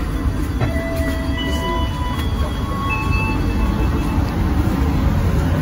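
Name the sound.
new generation stainless steel passenger train running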